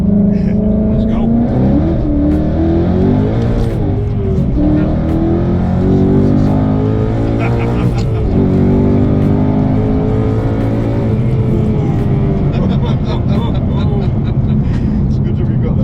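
A 1000 bhp Ford Mustang launches and accelerates hard, its loud engine note rising and shifting through gears for the whole stretch, with voices faintly under it.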